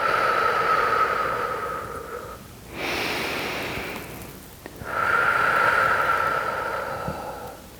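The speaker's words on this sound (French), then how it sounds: "N'hésitez pas à souffler par la bouche." During prenatal yoga with an exercise ball, breath is blown out through the mouth in long airy exhalations, close and clear, with a steady whistling hiss across the breathing phases.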